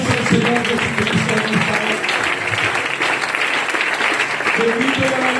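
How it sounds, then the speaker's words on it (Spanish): Church congregation applauding steadily throughout, a dense continuous wash of clapping filling the space, with a voice speaking or calling out beneath it. "Den un aplauso al Señor Jesucristo."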